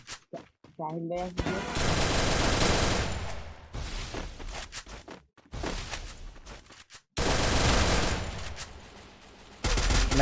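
Gunfire from a mobile shooter video game comes in loud, dense bursts of rapid automatic shots separated by short gaps, with excited players talking over the action.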